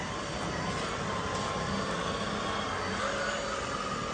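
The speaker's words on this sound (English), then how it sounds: "I gotta say, it's a pretty darn good vacuum." An Oraimo rechargeable bendable vacuum cleaner runs on auto suction mode, a constant loud, dense whooshing hum that holds steady throughout with no pauses and no voices.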